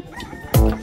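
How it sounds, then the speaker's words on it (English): A chicken sound effect is played as a cue on a podcast: a loud, brief squawking burst near the end, after a moment of low background noise. "I'm the one who cues the chickens."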